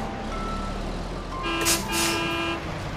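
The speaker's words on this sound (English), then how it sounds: "Here come the trucks." Trucks rumbling along a road, with a low engine drone joined midway by two blaring horn toots in quick succession, fairly close and loud against the steady traffic noise.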